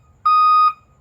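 A truck's reversing alarm gives a single steady electronic beep, clear and fairly loud, lasting under half a second against a quiet low background.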